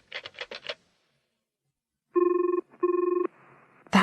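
A telephone rings in two long electronic double-burst rings with a short gap between them, clear and close, after a quick run of button-press beeps as a number is dialled.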